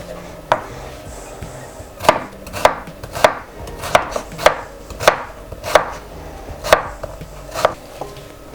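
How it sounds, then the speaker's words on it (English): Half a cucumber is chopped on a cutting board for a salad, about a dozen crisp, evenly spaced knife knocks ringing out loud and close with no speech. "Then I have about half a cucumber here. I'm just gonna chop it."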